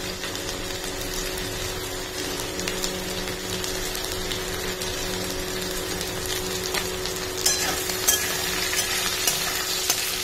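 Potatoes fry in oil tempered with five-spice, giving a steady, dense sizzle that carries on evenly throughout, close up, with a few clicks and scrapes of stirring near the end and no talking.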